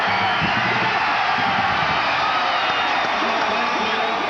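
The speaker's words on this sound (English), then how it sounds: "The crowd really responding as if Georgia Southern had it" A college football stadium crowd roars and cheers continuously at a play during a 1989 Marshall at Georgia Southern game, a dense, loud wash of voices with scattered shouts and whoops.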